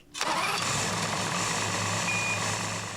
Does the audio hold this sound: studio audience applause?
no